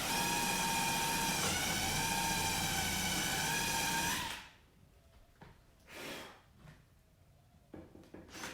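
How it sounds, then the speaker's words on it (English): A power drill's loud, steady mechanical whine runs continuously for about four seconds while drilling during a Troll Tamer install, then cuts off, leaving scattered faint knocks and rustles. "Make sure, barely drill down if you don't know what's on the underside."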